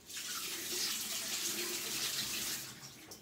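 Carrots are rinsed under a running kitchen tap, a steady close hiss and splash of water lasting a few seconds with no talking.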